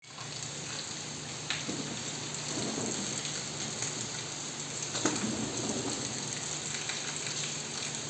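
Rain falls steadily outdoors during a monsoon spell, a soft, constant hiss with a few faint low rumbles rising briefly, heard at a distance with no one talking.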